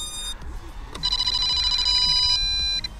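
MJX Bugs 3 Mini drone in acro mode beeping as it connects to its switched-on remote: a short tone, then a loud, close, sustained electronic ringing warble much like a telephone, with no talk.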